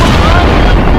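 A missile arsenal explodes in news footage, a very loud, dense, rumbling blast that fills the whole brief moment with heavy low booming.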